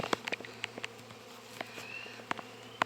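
Honey bees buzz around an open, thriving hive with a drone-laying queen, a soft continuous hum broken by brief louder passes of individual bees flying close, with no talking.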